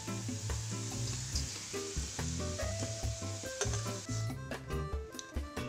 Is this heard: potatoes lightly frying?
yes